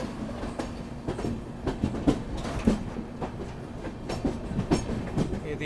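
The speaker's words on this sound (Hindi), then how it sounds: "ये थी हमारी Gandhinagar capital Mumbai central Vande Bharat express 20902" The Vande Bharat Express 20902, Gandhinagar Capital to Mumbai Central, passing a level crossing: a steady rumble with repeated clickety-clack wheel beats over rail joints, moderately close and continuous throughout, no talking.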